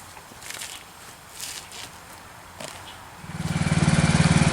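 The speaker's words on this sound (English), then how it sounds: "Okay, so we're going to load up the red lawnmower" An old lawn mower engine starts up after some rustling and footsteps, settling into a loud, steady, close running drone for the last second or so.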